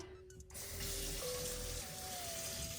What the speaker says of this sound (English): I rinsed it off as clear as I could get the water